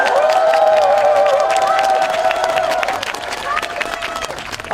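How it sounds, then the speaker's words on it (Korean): A crowd of older attendees at an outdoor political rally in Yeouido, Seoul, claps and cheers loudly, with sustained raised voices and whoops over the applause before it gradually thins out. "우리 어르신들께서 미래를 이끌어가고 대한민국의 새로운 주인이 될 2030 세대들의 용기와 격려를 위해 박수를 한번"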